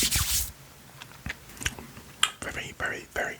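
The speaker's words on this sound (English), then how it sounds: "Very very crunchy." Close, crisp crunching of freeze-dried sweets being chewed, in uneven bursts with brief pauses between bites, quiet and intimate.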